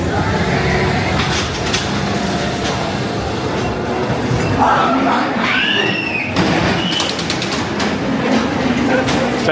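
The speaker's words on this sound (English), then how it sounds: "So you just love the sights and sounds of the Pleasure Beach ghost train" The Blackpool Pleasure Beach ghost train ride rumbles along with a low, steady roar, rattling clatter and sharp clicks, a squealing screech midway, while people talk throughout.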